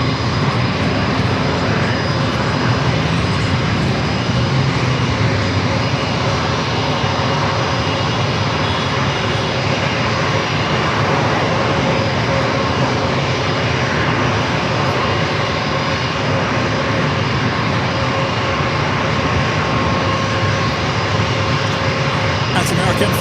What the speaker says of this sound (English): That's American Flight 795 heading to Chicago O'Hare in an A321.